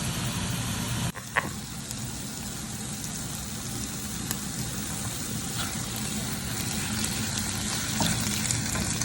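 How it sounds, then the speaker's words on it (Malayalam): Sliced onions fry with a pinch of salt or sugar for fish biryani, giving a steady, dense sizzle that holds through the whole stretch, with a faint scrape or clink now and then and no talking. "ചെറുതായിട്ട് ഉപ്പിട്ടിട്ട് അല്ലെങ്കിൽ പഞ്ചസാര ഇട്ട് ഒന്ന് ഫ്രൈ ചെയ്തിങ്ങെടുത്താൽ മതി"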